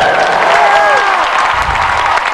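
A large arena crowd at the 2008 U.S. figure skating nationals applauds a men's performance with loud, dense clapping and cheering, while a commentator talks over it.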